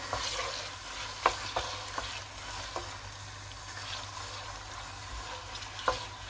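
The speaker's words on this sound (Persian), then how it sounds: "فقط من فرصت میدم تا این کاملا تفت بخوره به اندازه‌ای که رنگ گوشتم کاملا عوض بشه" Meat for Persian gheimeh stew frying in a pan with a steady sizzle, while a utensil stirs it and scrapes the pan in a few distinct clacks. No one talks.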